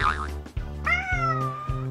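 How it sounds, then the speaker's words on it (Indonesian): An orange cat gives a couple of odd, strained meows with a rising, wavering pitch, close and loud, over a steady low hum. "jadi suara ngeongnya itu ya nggak sempurna."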